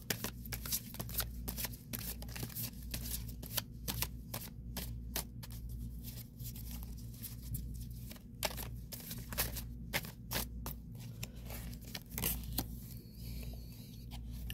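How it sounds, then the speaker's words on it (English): Witch's Tarot cards being shuffled up close, a run of quick riffling snaps and soft papery flutters that repeat in bursts over a quiet background. "Two more shuffles."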